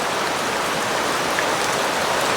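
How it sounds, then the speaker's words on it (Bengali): Heavy rain pours down in a steady, dense, close roar of drops with no pauses and no voices. "আর বৃষ্টি হচ্ছে দেখেন, একদম বৃষ্টি বৃষ্টি।"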